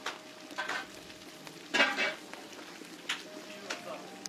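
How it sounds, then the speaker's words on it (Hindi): Whole collard green (haak) leaves frying and stirring in large cooking pots for a Kashmiri wedding: a steady broadband sizzle with scraping bursts of stirring, loudest near the middle, and a faint hum underneath. "सब्ज हाक के साबुत पत्ते इन डेगचियों में डालकर देर तक भूना"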